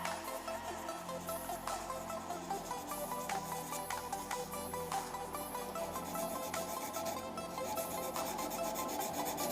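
Dense, continuous rasping friction of abrasive paper against a spinning blue and gold cast resin blank on a lathe, steady and close throughout with no talk.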